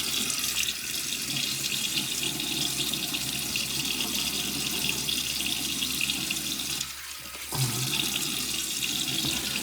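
A tap runs steadily into a sink while a man wets his face before shaving, a continuous close rush of water with a brief dip and splashing change near the end, with no talk.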